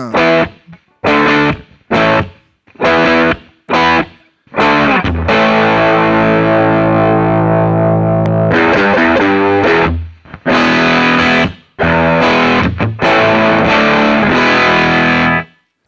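Electric guitar runs through a Lollygagger FX Canaglia distortion pedal for a cranked-amp crunch, loud choppy stabbed chords alternating with long ringing sustained chords, no talking over it.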